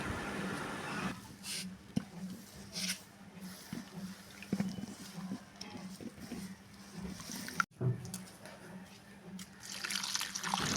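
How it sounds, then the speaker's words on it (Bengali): Sloshing, dripping water as drumstick (moringa) leaves are rinsed and swished around in a basin, close by, with brief splashes and pauses. "এখন পানি দিয়ে ভালোভাবে পাতাগুলো ধুয়ে নেওয়া হচ্ছে।"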